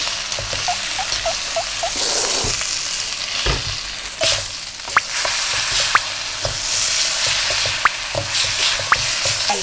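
Garlic shrimp fry in a very hot pan over a gas stove, a continuous loud sizzle broken by scattered pops, drips and the scrape of stirring, with no talking.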